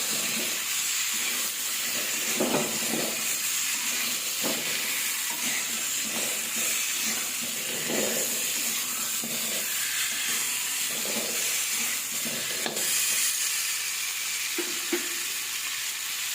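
Amra chutney being stirred in a hot pan at home, a steady sizzling hiss with soft repeated scraping strokes of a spoon across the pan throughout, no voices.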